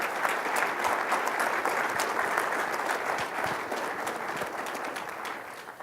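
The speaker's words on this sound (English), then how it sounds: "can we all just give Efficiency Vermont like a great round of applause" A keynote audience at a 2019 conference breaks into sustained, dense applause: many hands clapping steadily, fairly loud and even throughout, tapering slightly toward the end, with no speech over it.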